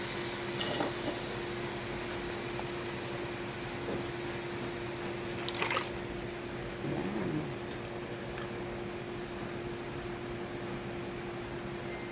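Coconut milk (gata) simmering in a pan with smoked fish for Filipino laing, giving a steady soft sizzling bubble throughout with a few faint clinks and stirring sounds.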